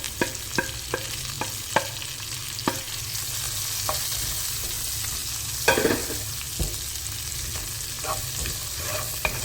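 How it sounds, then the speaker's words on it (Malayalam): Finely chopped shallots are added to hot oil with spluttering mustard seeds in a pan for a prawn roast and stirred. A steady close sizzle runs throughout, with sharp scraping stirs and seed pops cutting in at irregular intervals. "നമുക്കിതിലേക്ക് ഒരു 15 അല്ലി ചുമന്നുള്ളി കുഞ്ഞതായിട്ട് അരിഞ്ഞത് ഇങ്ങനെ ചേർത്ത് കൊടുക്കാം"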